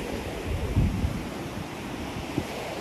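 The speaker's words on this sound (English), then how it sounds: "we're basically where the sea meets the river meets the sea" Sea waves wash in at a beach where a river meets the sea, with a broad, steady rush of surf mixed with wind noise and a couple of slightly stronger swells.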